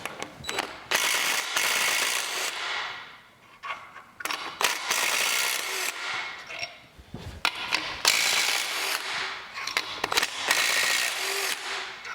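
Ratchet wrench working loose the crankshaft bearing caps on a Ford 302 5.0 V8 during a teardown, clicking in several bursts of rapid pawl ratcheting with brief pauses between, close and fairly loud, no talking.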